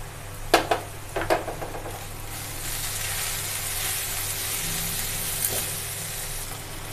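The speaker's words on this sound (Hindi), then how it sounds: "इसको भी हल्का फ्राई कर लेंगे" Vegetables frying in a pan with salt and turmeric for a palak, carrot or beetroot paratha filling, a few sharp stirring clatters early on, then a steady close sizzle that holds to the end.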